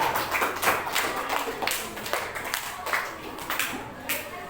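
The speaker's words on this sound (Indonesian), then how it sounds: "tepuk tangan untuk ya, Raya." Schoolchildren clap their hands together in a classroom during a social studies lesson, a fairly close burst of quick, uneven claps repeating for several seconds.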